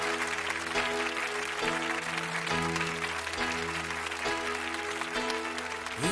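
Audience applause for singers and a 500-voice choir on a French TV show, steady dense clapping filling the whole stretch, with sustained musical tones running underneath.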